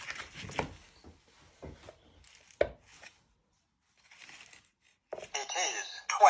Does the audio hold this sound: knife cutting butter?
yes